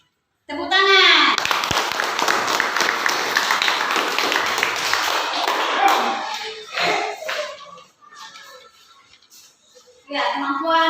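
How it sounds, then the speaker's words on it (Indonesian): A primary school class of children clapping their hands in a religious education lesson, a burst of rapid claps mixed with children's voices for several seconds, then fading into scattered talk. "Tepuk tangan."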